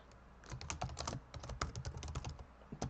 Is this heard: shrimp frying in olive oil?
no